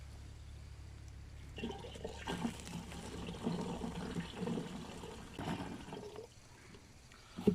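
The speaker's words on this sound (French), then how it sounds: "donc là, je rajoute de l'eau" Water is poured and splashed into a Guérande salt mineral mix, producing a broad liquid rush that swells and fades in several bursts, moderately close, with no speech.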